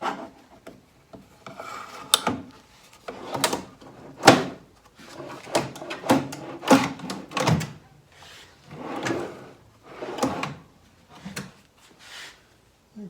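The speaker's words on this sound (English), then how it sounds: "about to fit the lower drawer" Wooden lower drawer being slid and worked into a handmade nightstand, with repeated rubbing, scraping wood-on-wood strokes and soft knocks, close and loud, with no talk.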